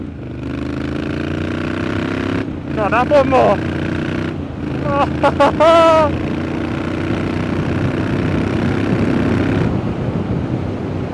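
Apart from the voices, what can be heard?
motorcycle engine revving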